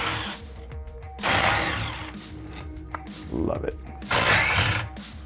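A Milwaukee power impact tool loosens rear suspension bolts on a vehicle during a spring and sway bar upgrade, firing in about three loud, close whirring bursts separated by pauses, with a man's brief speech in between.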